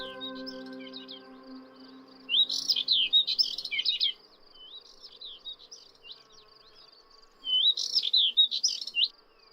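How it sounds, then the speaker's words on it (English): Subalpine warblers and thekla larks sing in quick, high twittering bursts, two clusters of song separated by a pause, with faint insect buzzing and a low hum beneath. "The birdsong of subalpine warblers and thekla larks can be heard all around."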